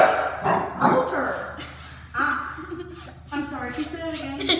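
A dog barks several times in short, loud bursts, close to the microphone, while people talk over and between the barks.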